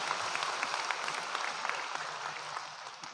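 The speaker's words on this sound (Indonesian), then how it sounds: "Tepuk tangan untuk beliau, enggak apa-apa." Audience at an Islamic religious gathering applauding in a steady, dense patter of many hands, moderately loud and even throughout with no talk over it.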